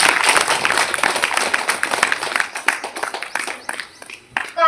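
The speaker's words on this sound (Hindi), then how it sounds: "ताली बजाइए भाई देवांश के लिए।" An audience at an International Yoga Day program applauds the youngest yogi, a dense burst of close clapping that thins into scattered claps before a few final loud ones.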